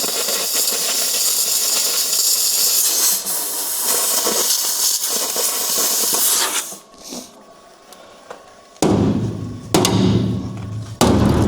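Lug nuts drop one after another, landing with sharp, close metallic knocks and thuds over a steady hissing background, with the last few impacts loud and distinct near the end.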